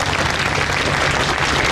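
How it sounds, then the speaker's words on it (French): Passengers aboard the cruise ship MS Astoria applaud during a line-crossing baptism ceremony, with thick, continuous clapping from a large crowd, loud and close, with no pauses. "je souhaite qu'on applaudisse ces 4 dignes représentants"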